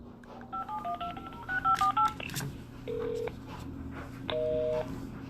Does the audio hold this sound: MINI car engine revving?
no